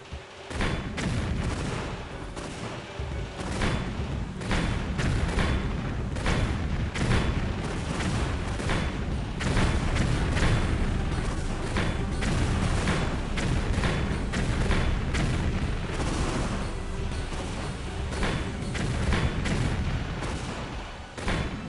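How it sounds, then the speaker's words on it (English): Cannon firing in the video game Tomb Raider 3 Remastered on the South Pacific Islands, a dense, continuous barrage of booming shots and thuds, loud and sustained, with occasional game effects between volleys. "Just man the cannon and fire away."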